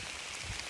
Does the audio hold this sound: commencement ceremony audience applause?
no